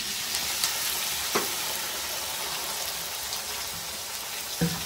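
Cucumber and tomatoes added to onions frying in a pan, a steady hissing sizzle with a few sharp crackles and stir clicks, no voices.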